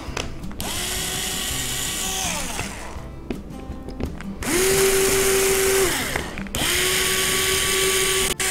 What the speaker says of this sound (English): the 1/16 inch drill bit for the pilot hole.